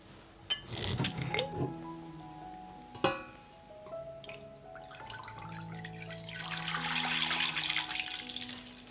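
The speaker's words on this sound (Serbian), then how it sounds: "Dve litre mleka sipat ću u šerpu." Two liters of milk pour into a cooking pot, a few clanks of handling first, then a sustained, rising liquid stream filling the vessel close by.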